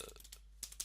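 Quick keystrokes on a computer keyboard while entering a command in a Linux terminal, a short close burst of light clicks with no voices.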